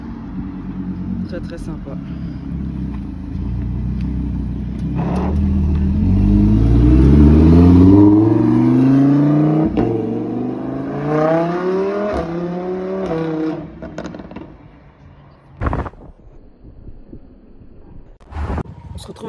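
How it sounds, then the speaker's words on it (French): A red Lamborghini Huracan revs and accelerates past on a street in Saint-Tropez, the engine note rising and swelling loud before fading, while someone talks nearby. "une très belle Huracan rouge"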